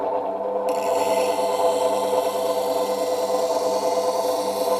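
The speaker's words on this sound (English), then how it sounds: "I'm just laying the tool on the grinder, on the wheel" A woodturning tool pressed against a spinning grinder wheel on a Woodcut Tru-Grind sharpening setup gives a loud, continuous humming grind that holds steady for about five seconds, with a brighter rasping edge joining after the first moment.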